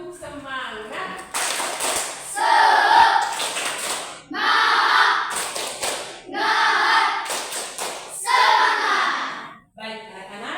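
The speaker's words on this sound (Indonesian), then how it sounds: "Tepuk semangat" Schoolchildren in a classroom perform a rhythmic spirit clap, chanting along in bursts of group clapping and voices separated by short pauses, repeated several times at close range.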